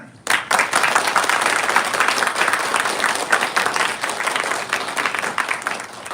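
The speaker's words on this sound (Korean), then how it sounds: "이 박수로 선교사님 맞이겠습니다" Church congregation applauding during a Sunday service to welcome a missionary preacher, a dense, steady wash of clapping that starts abruptly and holds for several seconds.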